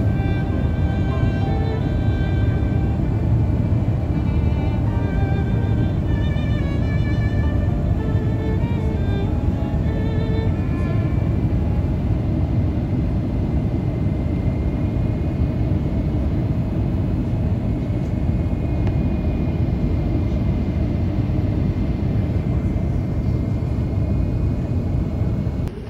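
Steady airliner cabin roar during descent toward Amsterdam Schiphol, a dense, unbroken low rumble with faint whining tones that drift in pitch, no talking.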